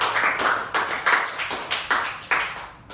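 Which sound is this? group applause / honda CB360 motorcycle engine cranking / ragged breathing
group applause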